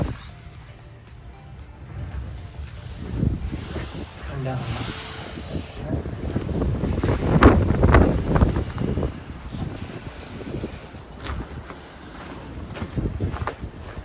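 Gusty wind of a Canadian winter blizzard roars against the microphone, swelling and easing in broad buffets with a stronger surge midway, while faint voices and household sounds stir underneath.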